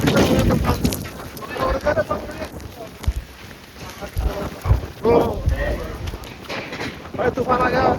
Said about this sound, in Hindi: दोबारा से देख सकते हो कितना भयंकर तूफान आ चुका है।